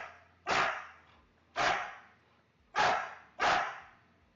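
A dog barks four times, loud and close, each bark a sharp burst that trails off, spaced about a second apart with quiet gaps between.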